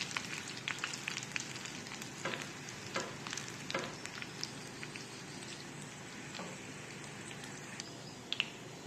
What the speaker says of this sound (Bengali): মিডিয়াম আর লোর মাঝামাঝি রেখেই ভাজবো, এতে রসুনের সুন্দর একটা খুশবু বের হয়।